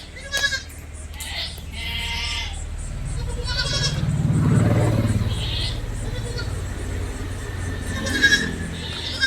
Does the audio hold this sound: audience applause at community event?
no